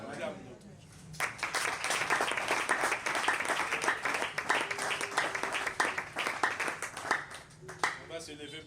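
A church congregation bursts into sustained applause that lasts several seconds, dense and fairly close, with voices calling out amid the clapping before it tapers off.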